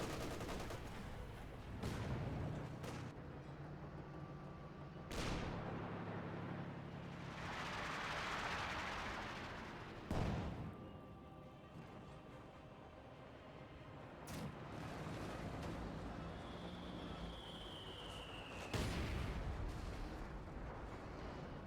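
Gunfire and artillery in a Company of Heroes 2 battle: sharp explosive blasts at irregular intervals roughly every few seconds over a steady bed of distant combat rumble and crackle, with one descending whistling shell in the later part.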